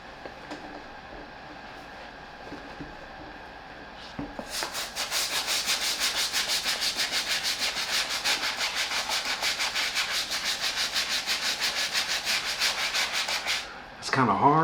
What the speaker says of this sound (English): we're going to go ahead and move to a medium bristle brush, and we're going to hit this midsole up